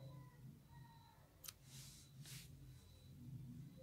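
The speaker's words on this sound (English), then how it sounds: "So now we cut the white yarn" Scissors snipping through white yarn during a crochet bunny appliqué project, two soft quick cuts close by, faint and crisp against a quiet background hum.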